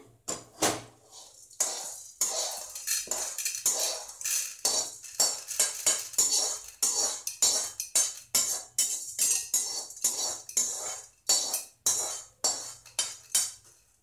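A metal spoon scrapes and clinks repeatedly against a pan and plate as roasted chana dal is moved onto a plate, a long run of quick, sharp, close knocks at an uneven rhythm.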